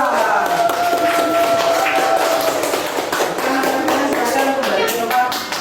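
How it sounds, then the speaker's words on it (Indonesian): A school class applauds a student group in a classroom, with a burst of scattered, lively clapping mixed with children's voices and chatter. "Tepuk tangan untuk kelompok 4."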